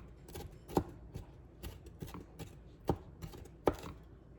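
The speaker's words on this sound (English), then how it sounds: "So you just keep chopping till you get it in really tiny," A knife chops vegetables for homemade salsa in a steady series of soft thuds and taps against a board, fairly faint and close, with no voices.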